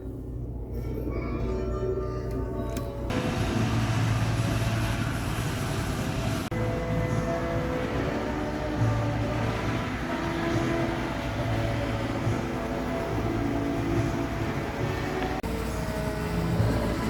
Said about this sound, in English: I had the power to start the train